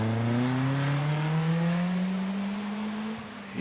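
Caterham Road Sport car at a Prescott hillclimb, engine note climbing steadily as it accelerates uphill, loud and close throughout with no talk.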